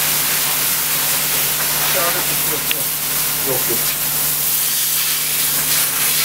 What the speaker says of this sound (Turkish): Su sıktığımız için de buharlaşıyor abi de.